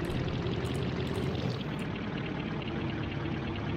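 A waterfall in the driving game BeamNG.drive gives a steady, dense rushing roar of falling water that runs unbroken throughout, moderately loud with no talking over it.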